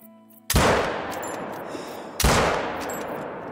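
Two loud 6.5 rifle shots ring out in a whitetail deer hunting game, about two seconds apart, each a sharp crack followed by a long rolling echo, with no talking.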